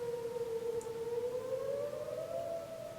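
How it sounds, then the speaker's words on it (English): Tornado sirens sounding during a monthly test, a steady wailing tone slowly rising in pitch, distant and fairly faint, with no voices over it. "they're testing the tornado sirens"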